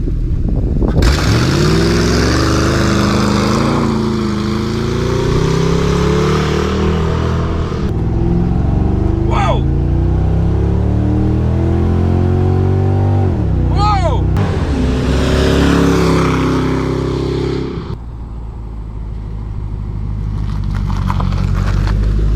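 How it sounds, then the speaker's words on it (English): A tuned Ford Crown Victoria on 93-octane fuel does hard acceleration pulls, the engine roaring up through the revs with gear shifts between rising sweeps, loud and close from inside the car. "Let's do some pulls."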